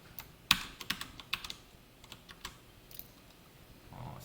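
Close computer keyboard typing while Java code is entered, with irregular clusters of sharp keystrokes early on that thin out into sparse, softer taps, no talking.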